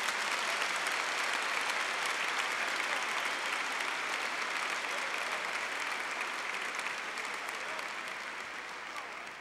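A church congregation breaks into sustained applause during a Mass, a dense wash of clapping that stays steady and full for several seconds before easing slightly toward the end, with no voices over it.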